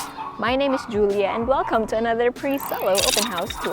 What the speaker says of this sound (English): please excuse the barking